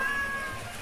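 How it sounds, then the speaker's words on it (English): Cat meowing in the video game Genshin Impact, a single short meow heard once, fairly faint against a background of game sound effects. "I think you can hear the cat meowing now."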